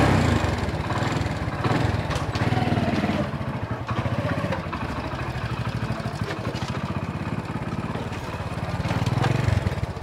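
A motorcycle engine runs steadily and close by, a continuous rough mechanical drone that holds at an even loudness for the whole stretch.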